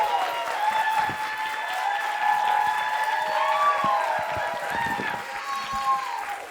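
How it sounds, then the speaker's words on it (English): Theater audience applause for special guests at a live comedy show, a steady wash of clapping from a crowd with cheering and whooping voices rising over it. "can we please give a huge round of applause for our special guests, Cochran and Ashley."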